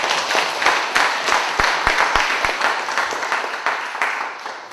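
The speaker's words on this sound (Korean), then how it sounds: "우리 50년 동안 우리 교회를 지켜주신 하나님께 우리가 한번 감사의 박수 한번" A church congregation claps in thanks during a Korean Sunday service marking the church's 50th anniversary. The full applause has a few sharp claps early on and slowly fades toward the end.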